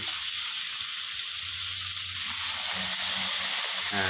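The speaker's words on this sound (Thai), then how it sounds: "ก็ผัดไปเรื่อยๆนะครับ ให้หมูพอสุกนะครับผม" Marinated pork being stir-fried in a pan gives a steady, close sizzle with a continuous hiss, and soft scraping of the stirring comes through faintly toward the end.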